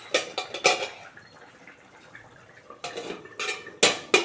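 Metal pot lid set down on a pot of simmering potato and fish curry, with a few sharp clanks and rattles at the start and again near the end, close and clear, no talking.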